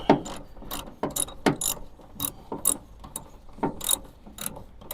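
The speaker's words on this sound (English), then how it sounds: "Working with this ratchet." A hand ratchet clicks in short, uneven bursts as it is worked back and forth on door hinge bolts of a 1976 Chevrolet C20 pickup, close up with no speech.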